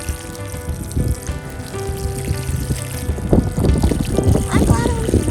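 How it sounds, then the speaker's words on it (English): Garden plants watered by hand, a steady splashing pour and trickle running throughout, close and fairly loud, with a voice speaking over part of it. "Now we water."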